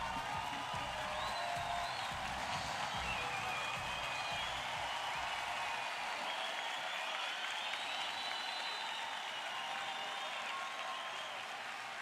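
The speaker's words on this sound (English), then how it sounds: "You heard the crowd applauding them as they go off" Crowd at a women's basketball game between the USA and the Netherlands applauds and cheers the teams as they leave the court at halftime, a steady, dense wash of clapping with whoops that holds for the whole stretch.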